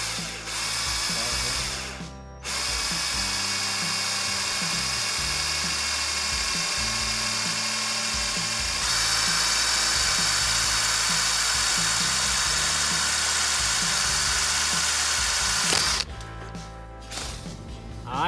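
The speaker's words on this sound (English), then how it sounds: "We gotta go back in and drill the holes here for the other levels and positions." A power drill bores holes for a pipe mount, running at a steady high-pitched whine for about fifteen seconds with a slight change in pitch partway through, then stops and is followed by brief clattering.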